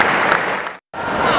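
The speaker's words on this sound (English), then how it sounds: "Ladies and gentlemen, another round of applause for those we are honoring today" A crowd applauds at a boys' basketball state championship recognition ceremony for male basketball legends, with loud, continuous clapping broken by a brief dropout near the middle.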